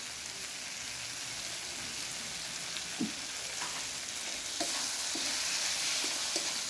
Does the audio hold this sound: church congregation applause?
no